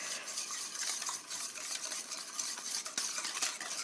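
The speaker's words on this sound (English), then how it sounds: "And then you just whisk that all together." Whisk beating vanilla extract and brown sugar together in a bowl, a quick, continuous, faint clicking and swishing with small sharp taps against the side, with no voices.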